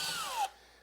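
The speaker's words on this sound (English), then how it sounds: "Now I'll run pilot holes for all 3" A power drill boring a small pilot hole into a drywall wall, a brief whining spin that slows in pitch before cutting off, leaving a quiet room.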